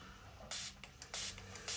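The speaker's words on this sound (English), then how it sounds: "I'm going to spray my rose water on my sponge." Rose water misted from a spray bottle onto a makeup sponge, three short hissing bursts spaced about half a second apart, close and fairly soft.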